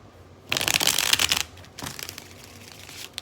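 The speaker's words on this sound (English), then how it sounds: "one more shuffle." A loud riffle shuffle of cards rattles for about a second, then a second, quieter shuffle trails off.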